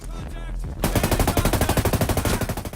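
After a brief muffled rumble, a sustained burst of rapid automatic gunfire erupts in the video game Ghost Recon Breakpoint, loud and steady with evenly spaced shots.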